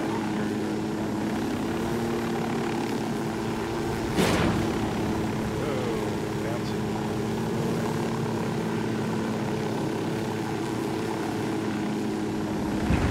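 Helicopter in Ghost Recon Wildlands flying steadily, a loud continuous rotor and engine drone with a steady hum throughout, one brief sharper burst partway through, no talk over it.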